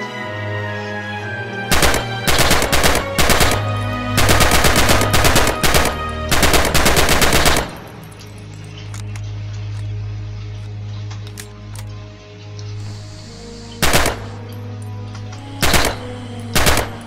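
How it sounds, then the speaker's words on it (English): Rifle fire on a practice range in the World War II shooter Red Orchestra 2: loud bursts of rapid shots between about 2 and 7.5 seconds, then a quieter stretch, then single sharp shots near the end. "Pre-fire at the targets on the range."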